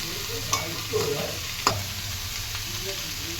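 Potatoes frying in crab curry in a pan: a steady close sizzle, with a few sharp scraping stirs near the start and middle.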